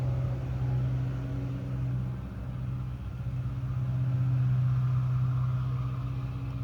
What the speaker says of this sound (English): Jesus, that truck is loud. You guys hear that?